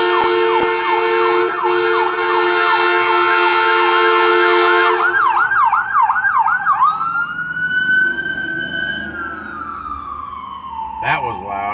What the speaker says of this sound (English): Ambulance. Ambulance.